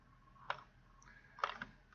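Two or three sharp computer mouse clicks as a document is saved, close and quiet, spaced apart against a faint steady hum with no talking.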